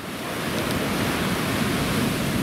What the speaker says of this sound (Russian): волны.